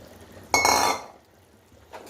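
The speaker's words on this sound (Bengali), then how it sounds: "এবার আমি দিয়ে দেবো ভেজে রাখা মাছ আর বেগুন।" Fried fish and eggplant tipped into a pan of boiling curry: one brief, close clatter and splash lasting about half a second, then quiet simmering, with a faint clink near the end.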